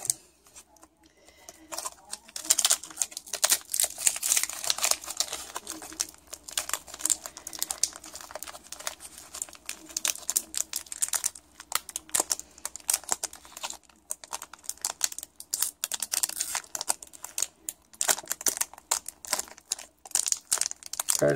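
Foil wrappers of Pokemon Burning Shadows card packs crinkling and tearing up close, a long run of dense rustling and crackling bursts with brief pauses.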